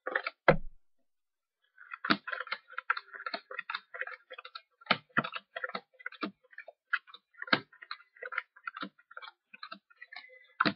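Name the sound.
playing cards being placed and turned over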